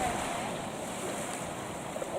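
Steady surf and wind wash over the beach at Western River Cove on Kangaroo Island, a continuous broadband roar with no distinct breaks, moderately loud and close, with faint wind buffeting the microphone.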